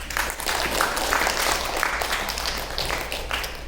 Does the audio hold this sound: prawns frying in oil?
no